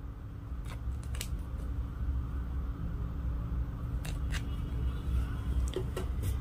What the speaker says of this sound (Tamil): இந்த சைடில் போட்ட தையலை மட்டும் நான் வந்து பிரித்து எடுத்துடுறேன்